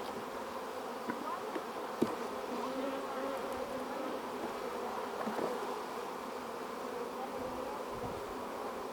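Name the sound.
bees buzzing in a beehive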